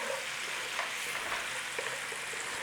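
Peppercorn sauce with a few tablespoons of brandy simmering in a pan to cook off the alcohol: a soft, even, continuous sizzle and bubbling, fairly quiet and close, with no voices.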